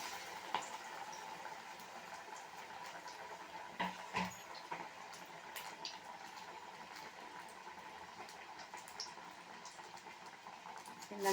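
Toor dal vadas made from ration-shop lentils fry in hot oil, giving a faint, steady sizzle and crackle with a few soft pops and no voices.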